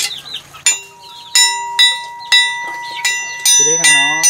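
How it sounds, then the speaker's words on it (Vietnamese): Knife blades forged from bearing steel are struck together about six times, each hit ringing out like a bell with a long, clear sustain, with speech heard at the start and end. "Nghe cái tiếng thép cọ vào nhau này."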